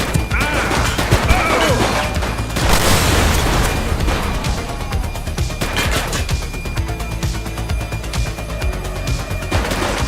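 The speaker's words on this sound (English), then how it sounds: "He's shooting!" Gunfire in the video game The Precinct comes as a dense run of sharp cracks and booming impacts over about ten seconds, loud and close with crashing bursts layered over game background noise.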